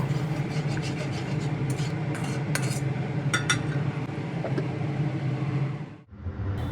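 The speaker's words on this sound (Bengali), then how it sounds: "মশলা আধা কষা করে ঢাকনা তুলে নিচ্ছি।" A metal lid is lifted off a pot of half-cooked spice masala with turmeric, simmering on a low-to-medium flame for a Bengali rui fish curry. A few light metallic clinks sound over a steady kitchen hum.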